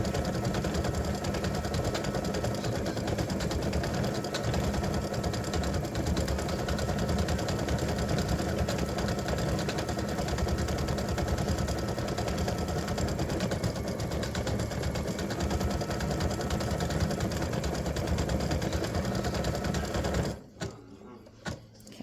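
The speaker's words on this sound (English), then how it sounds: "it'll come over here and stitch the gift tag / ornament / pendant, whatever you want to use it for." Embroidery machine stitching a freestanding-lace candy cane earring set: a loud, continuous, fast mechanical whirring and clatter of the needle running steadily close by, then stopping abruptly near the end.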